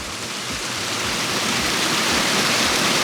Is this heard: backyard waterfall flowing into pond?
yes